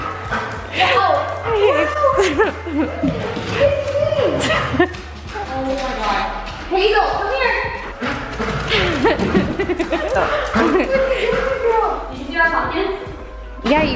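A dog barks and yips in short bursts, mixed under near-constant overlapping talk and laughter from several people.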